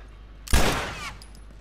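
A single loud, booming gunshot from The Last of Us video game, sharp attack with a long decaying tail, heard alone without speech.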